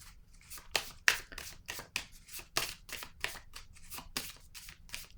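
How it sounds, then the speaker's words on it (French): Tarot cards are handled and laid down on a table, a quiet series of crisp papery slaps and flicks in an irregular rhythm, close by with no talking. "je vais déposer une autre carte ici"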